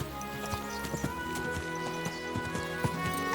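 Horse hooves clop in an even, unhurried rhythm during a careful ride along a cliff edge in Kingdom Come Deliverance 2, moderately close and fairly quiet, with no talking.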